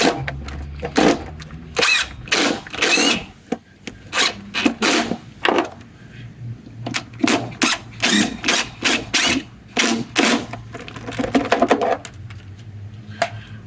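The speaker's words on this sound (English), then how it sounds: "I use my impact driver to get these things tightened up" An impact driver tightening bolts on a jump seat in a first-generation Dodge Ram W250 Cummins truck, with loud close bursts of rapid hammering rattle in repeated short runs separated by brief pauses, with no talking.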